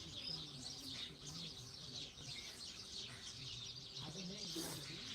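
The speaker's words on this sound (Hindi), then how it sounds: "चिड़ियों को दाने फैला दिए हैं।" Faint, scattered chirps and twittering from birds pecking at grain spread on the ground, with a soft cooing bird among them, heard from a short distance over a steady outdoor hiss.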